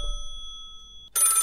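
A telephone bell rings in an old radio drama: a sustained tonal ring fades out, then a loud, buzzing bell ring bursts in again, close and alone.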